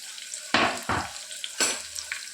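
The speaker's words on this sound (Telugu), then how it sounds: "ఆయిల్ హీట్ అయిన తర్వాత సన్నగా కట్ చేసి పెట్టుకున్న ఆనియన్స్ వేసుకోవాలి" Thinly sliced onions dropped into hot oil for a mutton curry, giving sharp bursts of loud sizzling and crackling, with three distinct surges as pieces hit the pan and stirring scrapes between.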